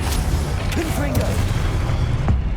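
A Confringo blasting spell cast in Hogwarts Legacy bursts as a deep, booming blast amid steady combat noise, with a voice speaking over it.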